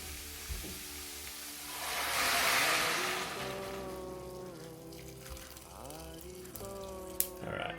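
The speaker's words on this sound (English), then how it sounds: "I'm going to put some water into the cauliflower now." Water pours into a cauliflower pot in a home kitchen, a swelling rush that rises and settles over several seconds, with pan clinks and rising resonant tones as the pot fills.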